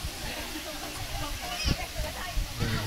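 Water flows steadily at Bato Spring, a constant rushing hiss like a small waterfall, heard close with occasional splashes and voices talking over it.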